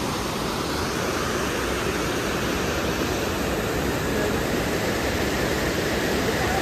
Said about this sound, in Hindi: भाई बिल्कुल खतरनाक झरना है